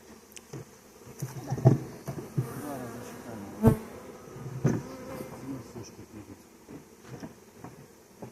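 Honey bees buzz close and steadily while frames are moved from horizontal hives into 12-frame hive boxes, with sharp knocks and clatters of the frames and boxes breaking through the drone at irregular intervals.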